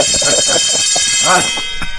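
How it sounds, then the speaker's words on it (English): A buzzing alarm sound effect plays on a radio show, loud and continuous throughout, with people talking over it. "do you hear the alarm, Mert?"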